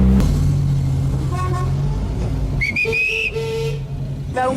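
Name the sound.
1973 Triumph car driving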